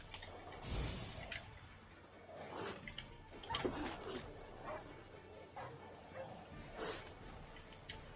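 Dogs in the open-world video game Witcher III bark and yip repeatedly in short bursts, fairly faint and scattered across the scene.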